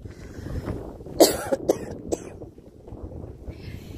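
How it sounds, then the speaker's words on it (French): A single sharp cough from a person recording outdoors, sudden and close, followed by a couple of smaller throat bursts, over a low rumble of wind and faint background talk. "j'ai toussé"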